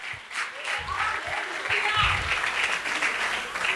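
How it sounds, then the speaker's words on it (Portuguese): A church congregation applauds God at a women pastors' gathering, steady dense clapping filling the room with a few voices calling out beneath it. "E você pode aplaudir esse Deus"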